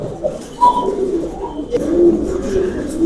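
Domestic pigeons, a pair of Maxi racers, coo in soft, repeated low murmurs close by, a steady run of throaty calls with no talk.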